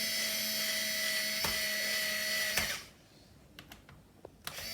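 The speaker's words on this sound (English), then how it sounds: "screwing this back into place" A small power driver whirs steadily while screwing a part back into a Cybex Priam stroller's handle and fold mechanism, then stops abruptly, leaving a few faint clicks and taps in a quiet room.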